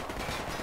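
Rapid gunfire in the tactical shooter Project Reality during a close-quarters co-op assault, a dense, continuous burst of shots that fills the whole short moment.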